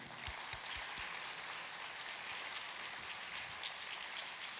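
Church congregation applauding at a Sunday worship service, a dense, fairly distant patter of clapping that holds steady throughout.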